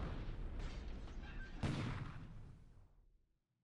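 Enemy gunfire in the War in the Pacific game comes as a dense volley of booming shots with one sharper burst partway through, all fading into silence at the end.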